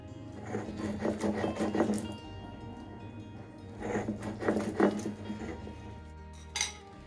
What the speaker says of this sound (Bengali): এই টুকরোগুলোকে শিলে একটু থেতো করে নেব তাহলে পুরোটাই একদম মিহি হয়ে যাবে